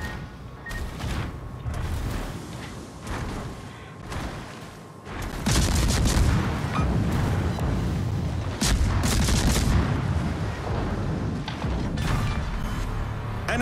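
Heavy booms and rumbling blasts of torpedo explosions destroy an enemy submarine in a naval video game, growing louder and denser midway with sharp bursts over a continuous low roar.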